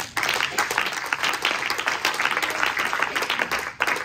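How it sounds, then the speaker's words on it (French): A church congregation applauding to acclaim God, with dense, sustained clapping from many hands filling the room loudly, then stopping abruptly just before the end. "Acclame Dieu."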